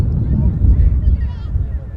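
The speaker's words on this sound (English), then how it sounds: "It's a little bit breezy here at Manchester today, as you can hear." Heavy wind buffeting the microphone at Manchester Airport, a constant low roaring rumble with gusty surges throughout.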